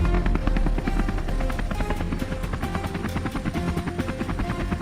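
A compact helicopter flies out over mist-covered fields on a wild boar hunt, its rotor chopping steadily and loudly up close throughout, with the engine's drone filling the background and no voices.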